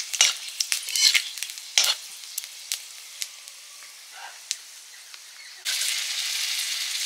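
Potatoes dropped into hot oil with tempered five-spice and dried red chillies sizzle and crackle in bursts, then settle into a loud, steady frying hiss near the end.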